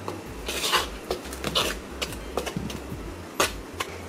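A utensil scrapes and clinks in a bowl while flour and Cajun seasoning are mixed, giving a series of close, light knocks and scraping strokes with short pauses and no talk.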